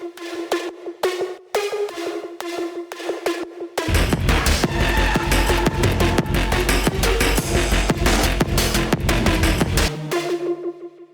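Bright plucked synth lead, the Future Now preset from an ESW pack, in a modern electronic track, a staccato line that comes in alone before heavy drums and bass join at around four seconds, loud and dense, then thins out.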